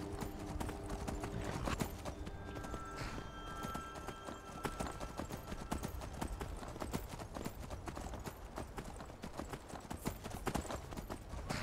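Horse hooves clip-clop steadily throughout a Skyrim combat scene, loud and close amid dense clatter and battle noise, with a brief whinny and occasional faint voice.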